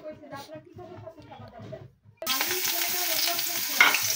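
Chillies and onions tipped into hot oil and stirred with a spatula, a sudden loud sizzle bursting in after a voice speaks, then frying on steadily up close.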